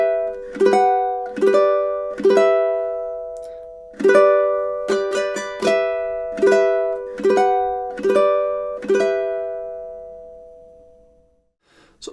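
A ukulele plucks the opening four measures of the Nutcracker March, a series of bright, ringing notes in a steady marching rhythm that ends with a final sustained note fading out, clear and close with no talking.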